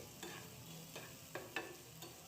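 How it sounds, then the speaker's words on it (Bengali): Vegetables with capsicum being stir-fried in a pan: several quiet spatula scrapes and stirs at irregular intervals over a faint sizzle. "ভালো করে নেড়েচেড়ে ভেজে নিচ্ছি।"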